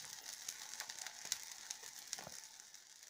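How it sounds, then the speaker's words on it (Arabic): Small mini hamburger patties fry in a drop of oil in a home kitchen, giving a steady quiet sizzle with scattered sharp crackles and pops throughout. "نديروا قطره زيت ونحطوهم هكا يتحمروا"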